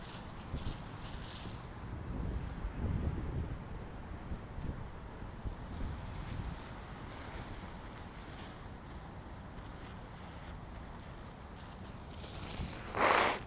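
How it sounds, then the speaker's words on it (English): Gusty wind buffets and roars across the microphone in uneven surges, with rustling underneath and a sharp burst near the end. "There's a hardcore wind coming."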